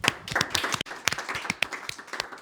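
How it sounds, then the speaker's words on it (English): A small audience applauds after a pitch session, with distinct individual claps in an uneven rhythm that stay fairly close and sparse rather than a dense roar. "Round of applause"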